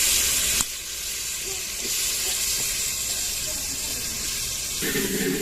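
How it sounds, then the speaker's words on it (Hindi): Washed onions dropped into hot ghee in a cooking pot, a loud hiss at first that settles into a steady close sizzle and steam noise, with no talk. "तो अभी जो है ना घी गर्म हो गया, इसमें प्याज डाले हमने।"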